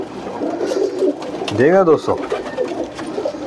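A pet pigeon gives a short warbling coo up close, a single rising-and-falling call lasting about half a second, amid a man's speech and background chatter.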